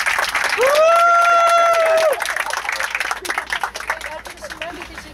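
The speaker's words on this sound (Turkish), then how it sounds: "bir alkış istiyorum Cafer Hocam" A tour group applauds at the close of a trip, with a shrill whistle rising over the start. Steady clapping follows and thins out toward the end, mixed with voices.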